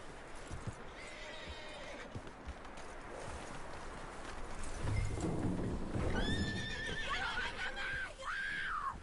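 A horse in the video game Red Dead Redemption 2 whinnies and snorts nearby over continuous clip-clopping hooves and outdoor ambience, with shrill rising neighs toward the end.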